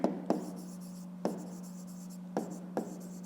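A pen scratches numbers onto paper in short strokes, with a few sharp taps between them, close up over a steady low hum.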